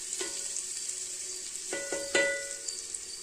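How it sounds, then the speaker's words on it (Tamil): Onions sautéing in a pan with a steady soft sizzle, broken by several metallic scrapes and clinks of a spatula stirring, close and without talk. "இப்போ நம்ம வெங்காயத்தை போட்டுக்கலாம். வெங்காயம் ஓரளவுக்கு வதக்குனா போதுங்க"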